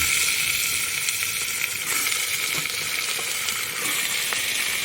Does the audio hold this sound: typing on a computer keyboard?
no